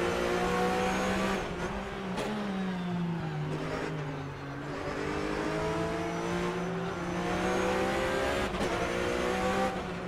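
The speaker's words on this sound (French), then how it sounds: "on vous laisse profiter du son du moteur de la voiture de Romain Thomas" A Porsche Supercup race car engine at a race in Hungary roars continuously, pitch rising and falling as it revs through gears and shifts, loud and close with no talking.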